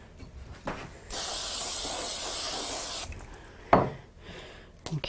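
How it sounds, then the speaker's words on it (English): A quick spray from a can onto a handmade craft card, a steady hissing burst lasting about two seconds, close and fairly loud, with small handling rustles and taps before and after. "So I'm going to give it a quick spray."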